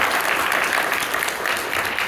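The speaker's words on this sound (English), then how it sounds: "Big TFCon round of applause." A convention audience at TFCon Orlando claps loudly and continuously, a dense wash of many hands in a large hall, with no talking over it.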